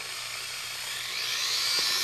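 A power drill with a 3mm bit bores a hole in the front bumper of a 2008-2010 Honda Accord Coupe during an aero lip install, a close, high whine rising in pitch over two seconds.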